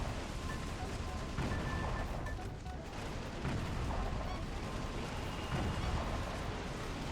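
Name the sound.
gunfire in the video game Metal Wolf Chaos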